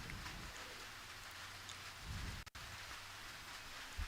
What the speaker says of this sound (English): Supercross, pouring down rain right now.